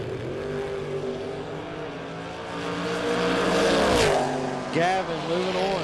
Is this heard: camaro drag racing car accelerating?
yes